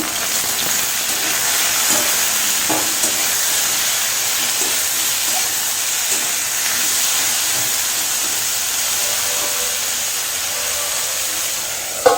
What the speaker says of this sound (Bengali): হলুদ আর নুন দিয়ে ভালো করে ভেজে নেব।